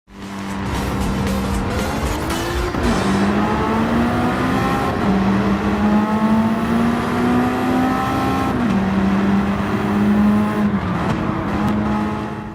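A racing car in the Gran Turismo racing game, such as a Mitsubishi Lancer Evolution 6 Tommy Makinen Edition, revs hard. The engine climbs through several gear shifts with squealing tires, loud and continuous, and no one speaks.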